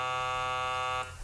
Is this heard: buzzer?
yes